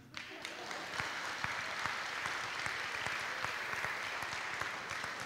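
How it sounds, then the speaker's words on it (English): An audience at a school North Campus ribbon cutting ceremony applauds in a dense, continuous round of clapping that holds evenly at moderate loudness throughout, with no voices over it. "You can clap."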